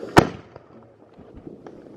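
A single sharp firework bang goes off in a backyard during a Fourth of July celebration, one loud close burst followed by faint scattered crackles and pops.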